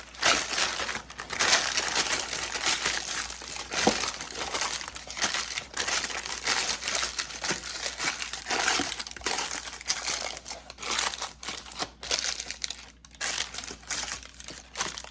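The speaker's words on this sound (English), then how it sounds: "Just crumble that parchment paper up." Parchment paper crumpled by hand in a home kitchen during marshmallow making, a loud, continuous crinkling and crackling that runs throughout with no talk.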